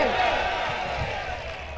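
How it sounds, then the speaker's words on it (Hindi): A large audience at a poetry recital in Surat breaks into sustained applause, a dense and steady wash of clapping that fills the whole moment and tapers slightly toward the end. "एक बार पूरा सूरत तालियां बजाए"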